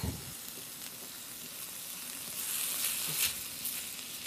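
A ribeye steak sizzles quietly in a heavy cast iron skillet, a soft steady hiss with a few sharper crackles and pops rising near the middle.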